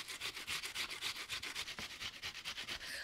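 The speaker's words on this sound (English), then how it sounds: "Use your box shredder to grate your onion." Onion rubbed against a box grater in quick, even back-and-forth strokes, a raspy scraping rhythm repeated steadily and heard close up with no talking.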